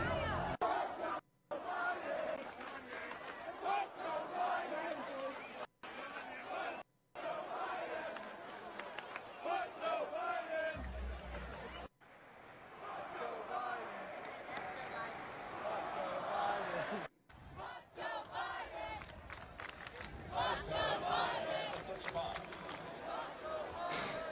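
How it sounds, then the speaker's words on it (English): A large game day crowd chants in rhythmic unison against Joe Biden, a loud, dense roar of many voices that swells and repeats across the stretch with brief cuts. "Another game day full of fuck Joe Biden chants."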